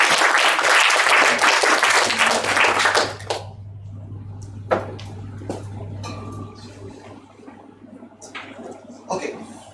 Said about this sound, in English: let's give Paolo a big round of applause